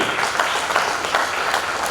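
Applause from an audience at a 2023 official-language Hindi poetry gathering, a steady, fairly even patter of many hands clapping throughout the short stretch, with no voices on top.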